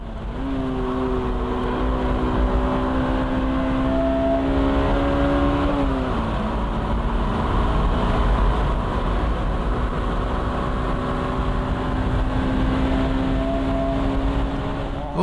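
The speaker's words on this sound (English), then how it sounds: "The straight-end acceleration is impressive." Honda NSX Type R accelerating hard down a race track straight, a loud, sustained engine note climbing steadily in pitch, briefly dropping at a gear change, then rising again, heard from on board with no talk.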